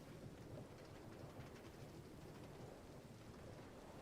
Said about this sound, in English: the static of the rain, which comes and goes